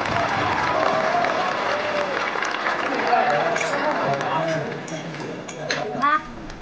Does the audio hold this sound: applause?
yes